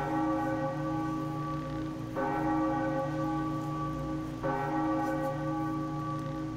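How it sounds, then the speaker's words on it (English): A large bell in The Legend of Zelda: The Wind Waker HD tolls three times in slow succession, with long ringing overtones sustained between strikes, much like a clock-tower chime. "now we have to ring this bell, and fans of Majora's Mask won't like this noise"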